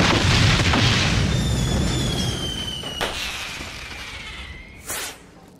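Loud crackling bursts and whooshing fireworks explosions in a firework factory in the video game Deponia: Doomsday, with sharp pops around the middle and end and a descending whistle.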